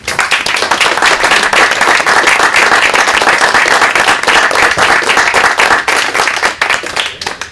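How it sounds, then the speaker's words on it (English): Residents and business owners receiving city awards at a Pleasant Ridge City Commission meeting get a round of applause, close, loud and brisk clapping from a modest group in a room, tapering off near the end. "we give them a round of applause"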